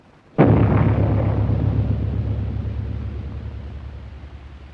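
A bomb blast from a 1930 war film erupts suddenly near the start, a single loud deep explosion that rumbles on and slowly decays over several seconds, with no voices.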